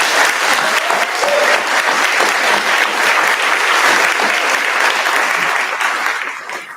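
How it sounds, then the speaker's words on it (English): Sustained audience applause at a community centennial gathering honoring a local group, a dense wash of many hands clapping steadily for several seconds before tapering off near the end. "And so, a round of applause for the IPL."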